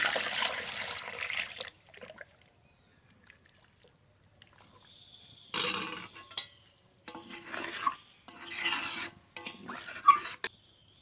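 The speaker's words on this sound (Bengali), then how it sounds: "এবার জল দিয়ে দেবো জল" Water is poured over lentils in a cooking pot during the making of masoor dal, heard as a short splashing pour at the start, then quiet, followed by several bursts of rough stirring or scraping.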